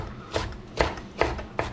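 Knife chopping bunched-up food on a cutting board for pan-fried chicken with linguine, four sharp evenly spaced chops, close and clear against quiet room tone.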